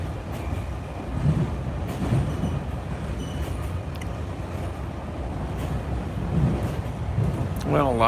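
A commuter train rolls steadily through a tunnel, with a continuous low rumble, rhythmic wheel clatter and a brief rising squeal near the end, heard from inside the carriage.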